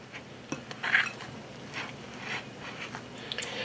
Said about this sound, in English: just take your time and mix it by hand